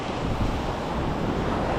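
Sea waves wash onto a sandy beach in Cabangan, Zambales, a steady broadband roar close by with some wind buffeting the microphone and no voices.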